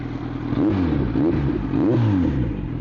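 A Kawasaki Z900 motorcycle engine revs loudly up and down in several quick swells over a steady idle, heard close by and alone with no talk.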